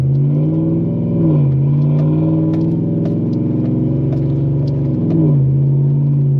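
A 2011 Chevrolet Silverado pickup engine with a broken exhaust hanger hums loudly and steadily, its pitch rising twice as it revs up, with a rough exhaust rumble underneath.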